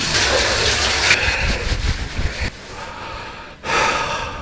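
A running shower gives a loud, close hiss of spraying water that shifts and breaks off briefly before it resumes.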